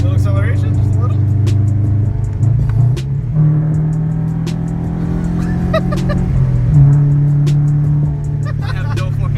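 A Scion FR-S fitted with unequal length headers accelerates with a loud, deep, uneven rumble close by, the engine note rising and settling through several pulls while people talk over it.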